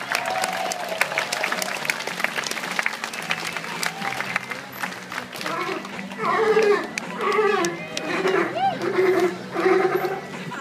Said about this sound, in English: the round of applause will keep him going even stronger